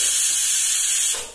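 Steam hisses loudly and steadily from a pressure cooker as its pressure is released, a dense, continuous spray that cuts off sharply near the end.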